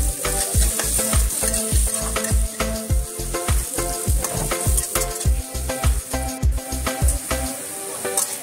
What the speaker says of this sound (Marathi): आपल्या कांद्याचे एजेस फ्राय व्हायला लागलेले आहेत